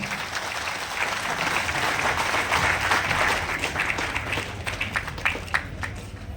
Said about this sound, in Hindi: वेलकम होने से जोरदार तालियां।